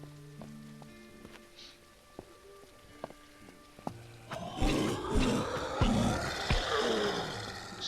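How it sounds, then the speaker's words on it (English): Rain falls in the survival video game Surroundead. It starts faint under sparse tonal game sounds, then swells midway into a dense, steady hiss of downpour with scattered sharper drops. No one speaks. "Started off raining, and then it's raining again."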